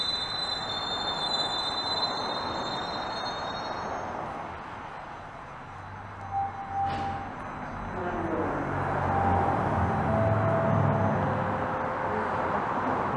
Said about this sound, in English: There's a southbound train rolling in.